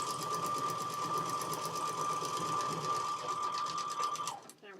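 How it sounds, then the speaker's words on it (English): A sewing machine stitches fabric with a steady, fast mechanical whir and rhythmic needle clatter, running continuously close by before stopping abruptly at the end. "Feed it under the machine, make sure it lays nice and flat. Give yourself that extra 1/4 inch again, and sew again."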